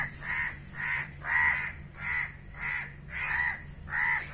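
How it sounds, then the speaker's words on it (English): A one-month-old baby crow caws repeatedly, six loud, evenly spaced calls close to the microphone, with steady low hum underneath and no talking. "This baby crow is 1 month 5 days old."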